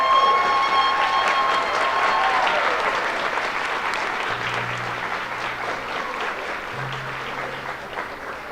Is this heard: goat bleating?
no